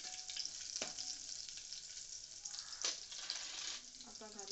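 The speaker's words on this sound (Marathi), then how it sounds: "लसूण आणि मिरची टाका।" Garlic and green chillies sautéing in hot oil with cumin in a pan for Marathi dahi kadhi, a steady close sizzle with a few stirring scrapes and clinks, no voices.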